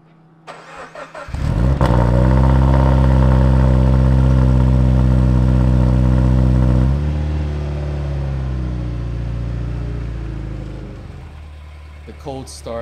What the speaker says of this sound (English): The cold start on this HKS exhaust never gets old.